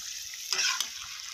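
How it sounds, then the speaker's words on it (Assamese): Chili powder and ground spices sizzle steadily in a hot pan, with a brief scraping swell as they are stirred around, fairly faint and close. "একেলগে চব গোটেইখিনি এতিয়া মিলাই পেলাই ভাজি দিম"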